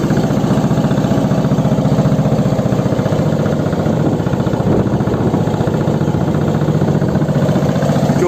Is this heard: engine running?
yes